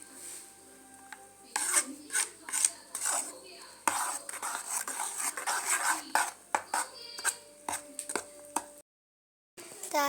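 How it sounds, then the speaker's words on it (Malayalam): A spoon scrapes and stirs date cake batter in a bowl, with a steady series of close scraping and knocking strokes in an irregular rhythm and a short silent gap near the end. "നന്നായിട്ടൊന്ന് മിക്സ് ചെയ്ത് കൊടുക്കുക"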